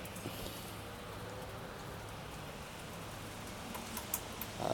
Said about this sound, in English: I'd like to point out it is raining